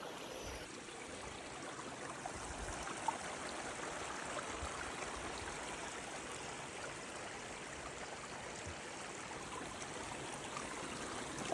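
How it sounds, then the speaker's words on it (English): Water flows around someone wading through a shallow river in a bog in the Brecon Beacons, a faint, steady rushing murmur with no talking. "I'm fully walking through a river."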